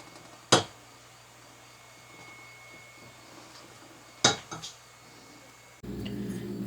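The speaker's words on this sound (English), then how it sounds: "Now I'm going to put this back in the oven for 30 to 40 minutes." A metal pan of apple-glazed pork loin clanks once into an oven, then clatters again a few seconds later, followed by a thud and a low steady hum as the oven door shuts.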